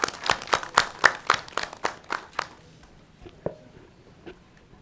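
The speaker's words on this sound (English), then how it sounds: "Let's give a round of applause for Mr." A roomful of people claps for a departing guest at a boardroom roundtable on aircraft leasing and financing, a burst of sharp, fairly close hand claps that thins out and fades to scattered claps within a few seconds.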